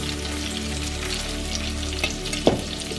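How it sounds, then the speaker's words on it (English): Potatoes sizzle and crackle steadily in a hot oiled pan, with a spoon scraping and stirring through them and a sharp clack near the end. "My potatoes go into this a little bit, just a few of it, not much. And I stir it properly."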